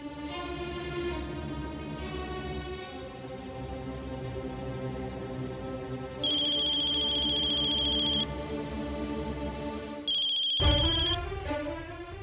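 A telephone ringing during a tense TV drama scene: a repeating electronic ringtone pattern with bursts of high beeping tones, steady and moderately loud, with no talking.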